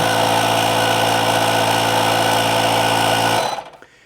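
A Stanley FatMax air compressor runs steadily and loudly while inflating a tire, a constant motor drone that cuts off abruptly near the end and fades to quiet.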